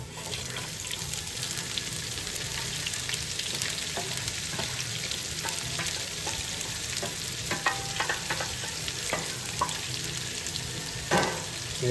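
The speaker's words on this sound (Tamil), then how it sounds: "இப்போ இந்த வெங்காயம் பெருஞ்சீரம் வெங்காயம் பெருஞ்சீரம் உள்ளி நச்சீரம் மிளகாய் எல்லாத்தையும் போட்டு இதுக்குள்ளே வளர்க்குவோம்" Onion, fennel seed, garlic and chili frying in a pan for semolina chips, a steady bright sizzle with intermittent scraping stir clicks, close and fairly loud, no voices.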